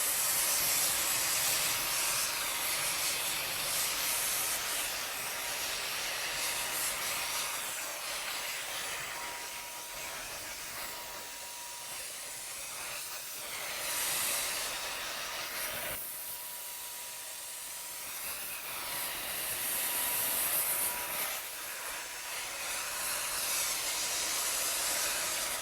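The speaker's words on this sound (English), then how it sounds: "Now it's a little bit more challenging when using the Stage 1 DYC sprayer." A Stage 1 DYC sprayer spraying DipYourCar peelable paint onto a car panel gives a steady hissing spray across the whole clip. It dips and swells with short pauses, with no talk.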